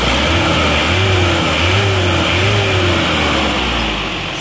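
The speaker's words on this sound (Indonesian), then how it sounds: "suara mesinnya lebih halus ini" A car engine fitted with new cylinder liners runs steadily up close, a continuous loud hum with slight rises in pitch, no talking.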